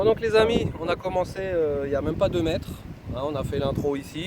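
Strong gusts of outdoor wind buffet the microphone with a steady low rumble, running underneath continuous close-up talking by a man.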